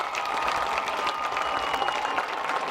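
Crowd at a high school homecoming football game applauds the 2020 homecoming king and queen, a brief, loud, continuous burst of clapping throughout.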